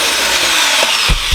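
Power drill working on a skateboard screw while a hex wrench holds the nut, giving a short close burst of whirring and rubbing mechanical noise with a couple of low knocks near the end.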